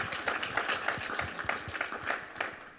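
Applause from a panel-discussion audience welcoming the speakers, a fairly faint, scattered patter of claps with uneven bursts rather than a dense roar, continuing steadily for a few seconds.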